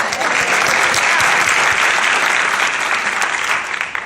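An audience at a community meeting about consolidating a Lafayette postal facility breaks into steady, dense applause that fills the whole stretch and tapers slightly near the end.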